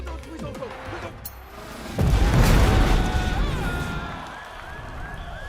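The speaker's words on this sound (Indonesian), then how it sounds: "Hanya satu bom yang meledak" A bomb detonates in a stadium setting during a terrorist-siege action film, a sudden loud booming blast with deep rumble that swells and slowly decays, followed by lingering debris and crowd-like noise.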